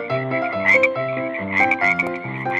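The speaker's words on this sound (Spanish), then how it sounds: "Miles de ranas salieron del río." Cartoon frogs croak over and over in a plague-of-frogs scene from an animated Bible story, with layered, rhythmic, tuneful croaks that sound close and clear and no voices.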